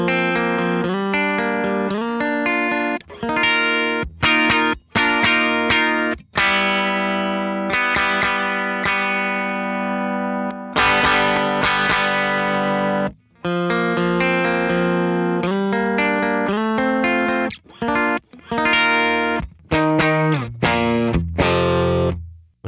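Electric guitar runs through a Warm Audio Pedal76 compressor pedal, playing loud, sustained, driven chords and ringing notes in phrases that stop and restart with short gaps.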